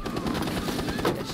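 Rapid gunfire crackles in a Rainbow Six Siege match, a dense run of quick shots that rattle steadily through the moment without a break.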